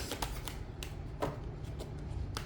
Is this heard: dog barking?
no